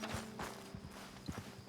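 Horses walking in the Red Dead Redemption 2 video game, soft irregular hoof clip-clops scattered over a low background bed, fairly faint and somewhat distant, with no speech.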